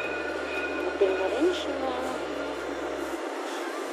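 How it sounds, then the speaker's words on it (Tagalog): A metro train pulls into a station in Dubai, a steady low rumble of the carriages with squealing overtones that drops away near the end, while people talk nearby. "Ito na po yung train natin."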